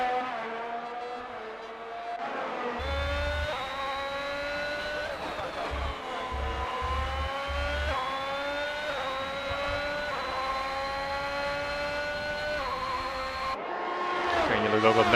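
Race cars in the F1 2021 video game lapping Monza through Ascari toward Parabolica, engines whining at high pitch with rising and falling revs and gear shifts, loud and steady for most of the stretch.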